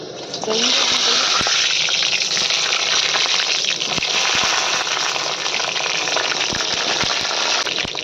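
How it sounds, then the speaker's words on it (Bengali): Eggplant pieces hitting hot mustard oil in a pan, a loud steady sizzle that swells suddenly and holds for several seconds, close up with faint clinks and a voice underneath. "প্রথমে বেগুনগুলো ভেজে নেব তেলটা গরম হয়ে গেছে"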